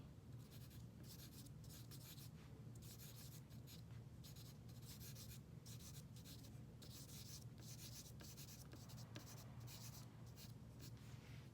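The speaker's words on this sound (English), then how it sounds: "So there's hatching with our charcoal pencil, and then let's do some cross hatching." A charcoal pencil cross-hatches on paper, quiet rhythmic scratchy strokes repeating in quick bursts with short pauses between them, close up and alone.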